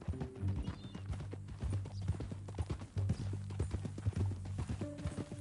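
Steady rhythmic clip-clop of horse hooves in a video game, fairly faint and continuous, over a low droning background with no talking.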